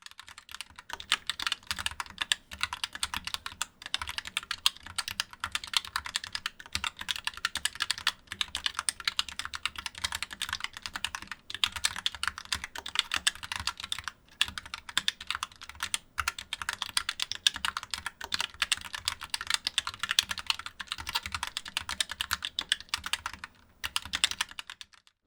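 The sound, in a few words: typing on ROCCAT Vulcan 2 Mini Air wireless keyboard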